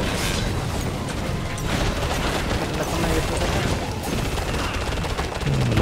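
Dense, continuous revolver gunfire in the video game Gauntlet, with rapid shots and mechanical clatter, loud and close, filling the whole stretch.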